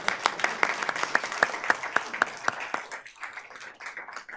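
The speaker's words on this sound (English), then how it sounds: "Now you can clap." A small audience at a Bucks County land stewardship talk claps for a few seconds, sparse individual claps standing out sharply at first, then thinning into a softer, scattered patter.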